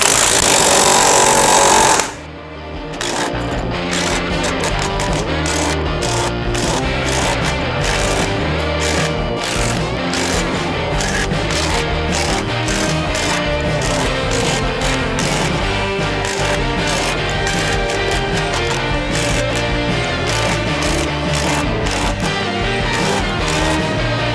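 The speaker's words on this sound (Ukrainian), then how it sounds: "Давайте спробуємо за скільки секунд заб'ється 120-й цвях в соснову балку." A Milwaukee C12 PN-0 cordless nail hammer drives a long nail into a pine beam, producing a rapid, continuous stream of sharp close-up impacts like a small jackhammer that persists steadily after a brief pause.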